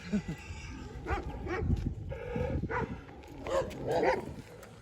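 A Sivas Kangal (Anatolian shepherd) dog barks at a rival dog in a run of several deep, loud barks at close to moderate range, with other ambient noise between them.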